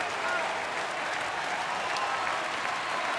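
Sellout baseball crowd at a Milwaukee ballpark applauding steadily throughout, a dense wash of clapping and crowd noise holding even for a few seconds while a game is underway.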